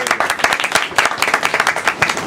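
Wedding guests applauding after a speech at the reception, a dense, lively burst of many hands clapping close by, steady and even for a couple of seconds.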